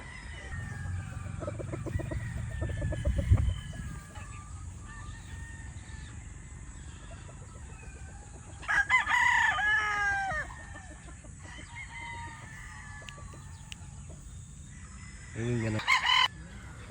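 A Sweater Boston straight-comb gamecock broodstag crows close and loud in several separate bursts, with clucking and other fowl sounds between them and brief rustling near the start.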